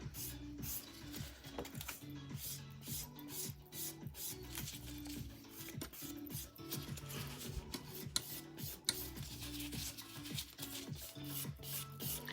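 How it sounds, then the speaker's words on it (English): A person files their own fingernails with a nail file, a close, steady run of short scratchy strokes in a fast repeating rhythm, quiet and continuous throughout. "Filing your own nails under camera so everyone can see"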